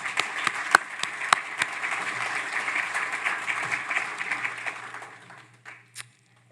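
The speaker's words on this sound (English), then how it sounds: "I'll just give a round of applause to those guys" A conference audience gives a round of applause, steady dense clapping with a few sharper close claps, tapering off gradually toward the end over a low background hum.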